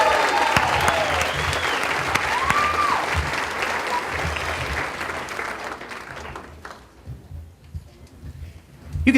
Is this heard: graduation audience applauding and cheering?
yes